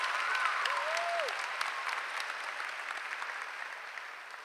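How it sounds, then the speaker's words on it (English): Audience applause for a 2022 high school graduating class, a broad, even wash of many hands clapping in a large hall that slowly fades, with a brief faint whistle-like tone near the start. "Please join me in giving them a big round of applause."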